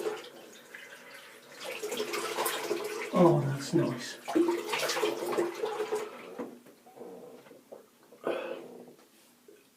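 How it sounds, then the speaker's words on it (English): Cold water runs and splashes from a tap for several seconds, loudest in the middle, while someone talks and exclaims over it after a shave. "Oh, I love the cold water at the end of the shave."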